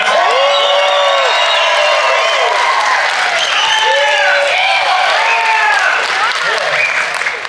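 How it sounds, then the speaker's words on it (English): A crowd at an offroad expo cheers loudly, with whoops, shouts and applause rising in waves, close and sustained throughout. "Can we get everybody just start cheering?"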